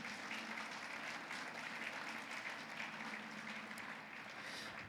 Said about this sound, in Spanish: Vamos a dar un aplauso a nuestro Padre Celestial.